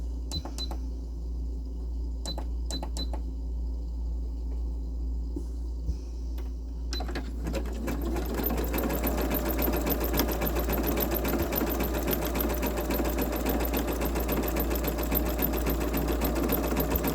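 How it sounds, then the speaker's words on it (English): A sewing machine first makes a few clicks while being set up, then runs a steady, fast zigzag stitch as a rapid mechanical chatter over a constant low motor hum. "we're going to do a zigzag stitch to keep that from unraveling."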